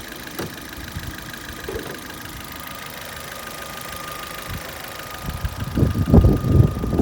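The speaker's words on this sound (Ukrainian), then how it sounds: "Тепер ближче до двигуна, покажу як він працює." An Opel Zafira 1.8 petrol engine idling close by, a steady mechanical ticking and rumble with faint clicks, growing louder and rougher toward the end.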